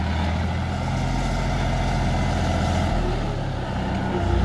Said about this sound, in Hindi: क्या शानदार आवाज है